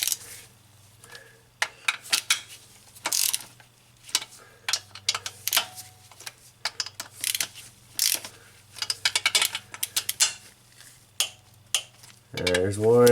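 A ratchet tightens bolts evenly on a Honda Odyssey during misfire repairs, producing close, repeated bursts of quick clicking as it is worked back and forth, separated by short pauses, over a low steady hum.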